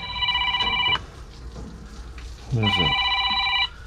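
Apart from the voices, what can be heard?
telephone ringing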